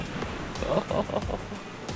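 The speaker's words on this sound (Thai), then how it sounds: "นอนสบายเลยฟังเสียงคลื่นเสียงลม" Ocean waves and wind on the beach at Koh Libong, Trang, with gusty rushing surf pulsing in a few swells close to the microphone.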